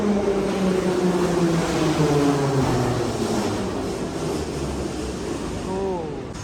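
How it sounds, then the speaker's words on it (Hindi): Metro trains on the Baku underground in Azerbaijan run through the station with a loud, sustained rumble and tonal whine that rises and falls as a train passes close by. "और ये ट्रेनें भाई साहब बार बार आई जा रही हैं, भागी जा रही हैं।"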